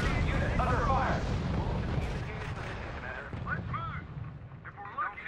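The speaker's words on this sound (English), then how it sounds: "Unit reports heavy fire." Gunfire and artillery from the RUSE war strategy game, a dense, sustained rumble of distant shelling and shooting with a radio-style voice talking over it.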